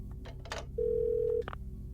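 A telephone in the PlayStation video game Parasite Eve 2 sounds one steady electronic ring tone lasting under a second. Short clicks and beeps come just before and after it, with no speech.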